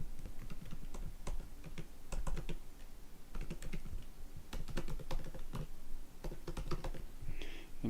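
Keys clatter on a computer keyboard as values are typed into an email form, quick bursts of close, crisp taps separated by short pauses.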